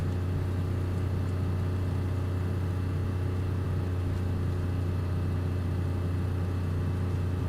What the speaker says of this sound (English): if you want the car sound back up